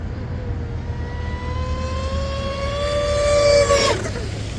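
An 8S Cozy RC M950 mono RC boat screams along with a motor whine that climbs steadily in pitch and loudness, then drops off sharply near the end as it passes. No one talks.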